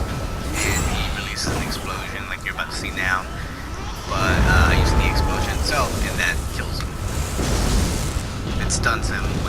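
Explosion ability from the video game Elder Scrolls Online, heard as booming, crackling bursts with a spell-like whoosh around the middle, mixed with other game effects under continuous talk.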